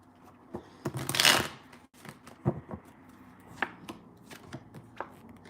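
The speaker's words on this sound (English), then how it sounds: "I'll pull some cards and see what comes up" Tarot cards shuffled and drawn for a reading: a bright riffling burst near the start, then scattered crisp snaps and taps as cards are pulled and laid down, close and fairly quiet with no talking.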